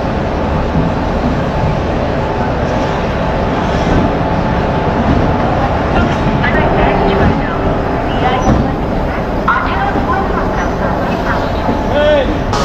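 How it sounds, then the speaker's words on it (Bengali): Train 12857 Tamralipta Express rolls into a station, a loud steady rumble of wheels and carriages filling the whole stretch, with some announcements or voices faintly under the noise. "12857 তাম্রলিপ্ত এক্সপ্রেস দেখতে পাচ্ছ।"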